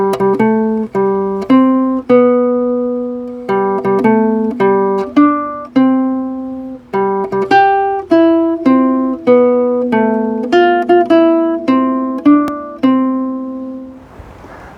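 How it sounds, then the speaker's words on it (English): Happy Birthday plucked on guitar in waltz time, clear single notes ringing and decaying one after another, close and bright, phrases separated by short pauses, ending on a sustained note with a little handling noise. "And it sounds like this on guitar."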